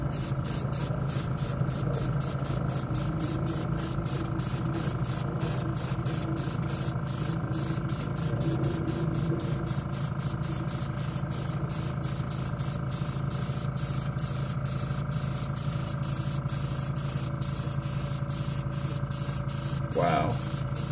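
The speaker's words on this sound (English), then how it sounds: "Seems to be spraying pretty good at 20 PSI" A Badger airbrush sprays Stynylrez primer at 20 PSI, a steady close hiss with a faint underlying hum running unbroken for the whole stretch.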